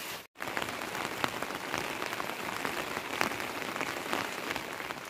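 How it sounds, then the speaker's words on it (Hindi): Steady, dense monsoon downpour of heavy rain in a mountain village hissing on surfaces, loud and continuous with a brief dropout near the start. "मौसम एकदम लगातार झमाझम बारिश हो ही रही है"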